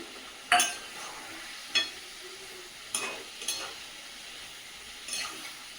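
Rooster meat sautéing with ginger garlic paste in a pan, a faint sizzle broken by a few separate sharp spatula scrapes and clinks.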